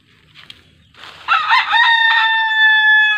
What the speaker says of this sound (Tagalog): Yung wild chicken nalapit po dito sa aking mga alaga na manok.